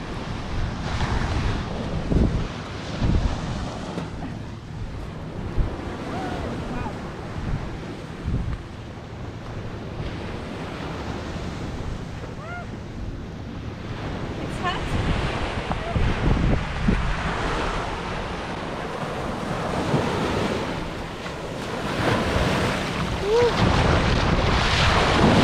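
Steady surf and gusting wind roar on a beach during a thunderstorm, a loud continuous wash of waves with microphone wind buffeting, swelling toward the end.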